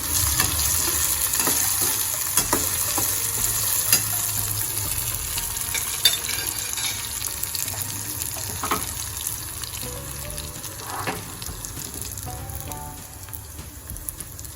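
Ridge gourd curry, Gujarati turiya nu shaak, stirred with a spoon in a pan, a steady close sizzle with occasional soft scrapes and clinks of the spoon, no voices.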